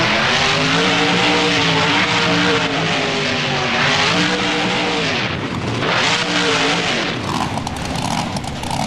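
A monster truck in the BeamNG driving game roars and revs loudly at a stadium freestyle event, engine pitch rising and falling as it maneuvers and rolls, with no talk over it.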